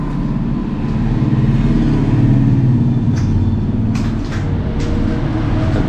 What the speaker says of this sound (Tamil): ரோடு ஓரத்துலேயே இருக்கிறதால சவுண்டு பயங்கரமாக கேட்டுனு இருக்கும் பாருங்க